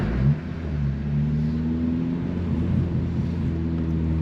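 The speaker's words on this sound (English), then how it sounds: "Oh, big truck, big wide truck." A big, wide truck passing on a road, heard as a steady low rumbling engine drone with a smooth tonal hum, moderately loud and continuous throughout, with no talking.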